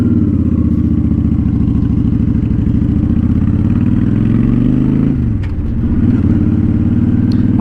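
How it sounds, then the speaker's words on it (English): A Honda Shadow Spirit motorcycle fitted with a Cobra exhaust runs steadily and loudly up close, with a deep, throbbing exhaust note and a brief dip in tone partway through. "I'm really happy with the sound of this exhaust."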